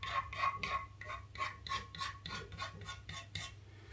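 Sandpaper rasps rhythmically across the wooden body of a custom Les Paul guitar, about a dozen steady back-and-forth strokes close up, with a low hum underneath.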